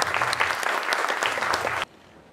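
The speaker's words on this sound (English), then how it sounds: "give another round of applause to Jules" An audience applauds Jules, a dense burst of steady clapping filling the room at close range for nearly two seconds, then cutting off abruptly into near silence.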